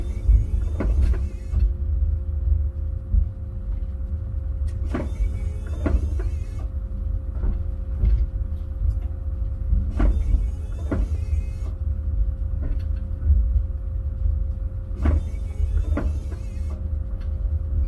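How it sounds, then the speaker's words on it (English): Modified wheel loaders work beside a freight train on a dedicated Norwegian freight line, loading timber: a steady low engine rumble runs throughout, with recurring whirring hydraulic or motor bursts and clunks at regular intervals, fairly close. "They use some modified wheel loaders here."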